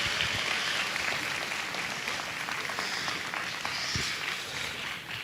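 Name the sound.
audience applause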